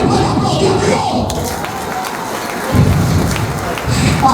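A church crowd cheers and shouts in a loud, continuous roar of many voices, with scattered clapping mixed into the din and a brief surge in volume near the end.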